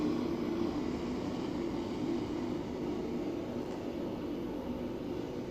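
Airliner taking off in the PMDG 737 flight simulator at Seattle, a faint, steady, broad engine roar heard from a distance, holding even without any sharp peaks.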